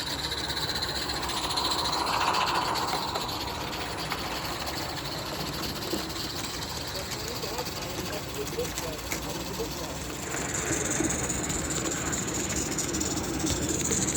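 Live steam garden-scale locomotive on 45mm track hissing and chuffing steadily as it runs, a continuous breathy steam rush with a faint mechanical rhythm underneath and no talking.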